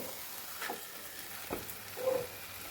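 Food frying in a pan during home cooking, with a soft steady sizzle and a few scraping stirs of a spoon against the pan. No voices.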